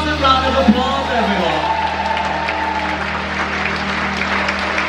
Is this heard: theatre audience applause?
yes